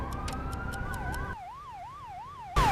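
Ambulance siren on an emergency call in heavy traffic, a steady rising tone that shifts into a rapid wailing yelp, loud and close, with a sharp burst of a different siren tone at the end.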